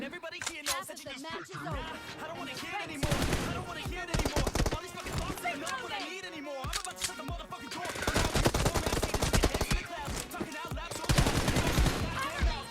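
Automatic weapon fire in PUBG Mobile erupts in repeated loud bursts with brief gaps between them, while a voice talks over much of the shooting.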